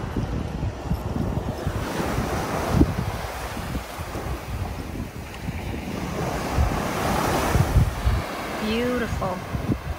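Ocean waves wash steadily at a South Florida beach while gusty wind buffets the microphone close by, and people talk over the surf now and then.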